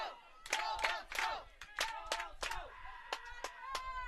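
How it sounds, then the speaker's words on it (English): Baseball fans of both teams at a championship game between the Lethbridge Elks and Billings Royals cheer and shout back and forth, a crowd roaring in repeated bursts with sharp whistles and yells rising over steady stadium murmur. "teams' fans cheering back and forth"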